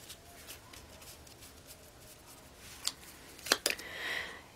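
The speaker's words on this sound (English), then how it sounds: "one more shuffle for Sagittarius and all those who love Sagittarius" Tarot cards being shuffled by hand: quiet room, then a few crisp riffling bursts and a brief papery rush near the end, fairly soft and close.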